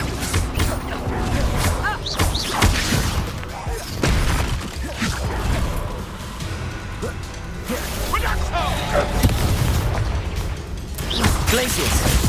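In Hogwarts Legacy, a Flipendo spell is cast amid a frantic combat sequence, bursting with sharp magical cracks, whooshes and crashing impacts as a voice shouts spell names throughout.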